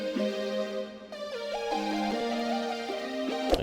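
A synth melody layer built in FL Studio, played dry without the Grossbeat effect, with stepping sustained notes in a mid-high register. It plays alone, steady and clear, with no voices.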